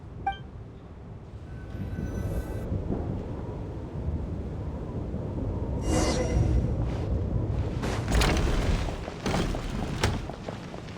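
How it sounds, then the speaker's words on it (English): A thunderstorm rolls on with deep, continuous rumbling thunder and a rain-like wash, punctuated by a few sharper crackling bursts toward the end. "What is going on with this storm?"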